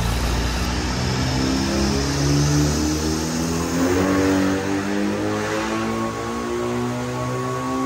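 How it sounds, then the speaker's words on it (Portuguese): A remapped Volkswagen Jetta TSI turbocharged engine runs on a dynamometer, a loud sustained drone with rising and falling harmonic tones as it builds through the revs, heard up close with no talk. "a gente vai passar esse carro no dinamômetro e vai dar tudo certo"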